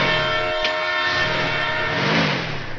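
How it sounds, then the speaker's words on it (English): A freight train passes a grade crossing in Danville, its horn sounding in sustained tonal blasts over the low rumble of rolling cars, moderately close and without talk. "Finally, the train passed."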